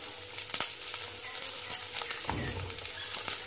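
Onion and grated coconut sautéing in a pan for an egg omelette gravy, giving a close, steady sizzle and crackle with a few sharp stirring scrapes and clicks.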